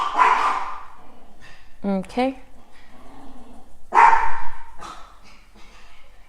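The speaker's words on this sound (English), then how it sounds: "that's my dogs barking at my nephew" Dogs bark at a visiting nephew indoors, a few short sharp yelps breaking through a person's ongoing talk, moderately close.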